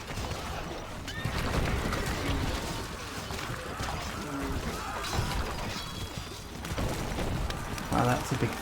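Horses neigh in a strategy video game battle, whinnies rising over a dense, continuous din of combat clatter and thuds, loud and busy throughout.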